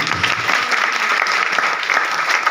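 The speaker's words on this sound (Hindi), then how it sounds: "आपको एक बार आर्मी के लिए जोरदार तालियां होनी चाहिए" A crowd at an AWPL meeting in Guna claps loudly and steadily for the army, a dense, continuous burst of applause close by throughout, with no talking over it.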